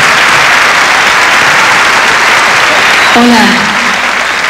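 A studio audience gives loud, dense applause for a host on a Telemundo variety show, steady throughout, with a brief spoken greeting and a short tonal musical flourish near the end.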